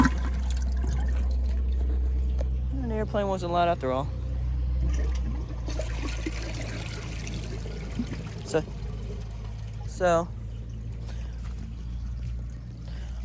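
A 2014 Sterling Windham toilet flushes, water rushing and trickling steadily through the bowl for several seconds, with a person talking briefly over it.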